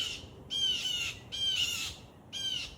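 Backyard crows in a suburban neighborhood cawing in loud harsh bursts, three close raucous calls with short pauses between, mobbing a perched predator.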